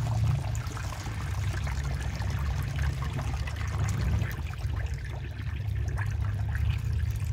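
Water pours steadily into a perforated plastic bottle buried in greenhouse soil, a continuous close gurgling stream with low churning rumble lasting throughout, no voices.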